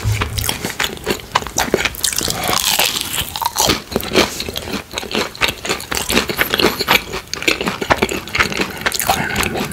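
Biting and crunching into a crispy giant sticky rice cake patty, loud close crackling crunches repeating in quick succession, with steady chewing and no talk.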